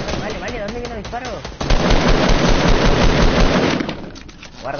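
Rapid gunfire in the Fortnite video game, with dense bursts of shots crackling close and loud for several seconds while a player talks over the start and end.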